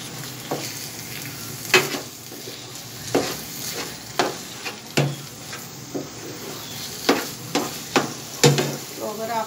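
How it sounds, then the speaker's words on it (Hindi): Halwa being fried in ghee, a steady sizzle broken by regular, fairly loud scrapes and knocks of a spoon stirring against the pan roughly every second. "तो 10 मिनट तक मैं इसे अच्छे तरीके से फ्राई करती हूँ"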